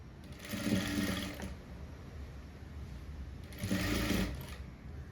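Sewing machine stitching a blouse slowly, two short, quiet runs of soft mechanical whirring separated by a pause, close but faint.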